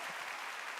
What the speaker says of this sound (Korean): 깨달은 사람의 박수.